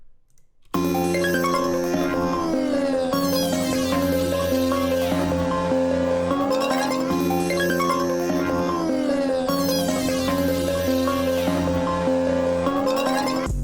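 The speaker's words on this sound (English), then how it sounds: "I added this lead which plays this arpeggiated pattern and just goes down really quickly" A bright synth lead plays fast descending arpeggios over sustained chords, repeating in a loop, drenched in reverb, loud and with no voices.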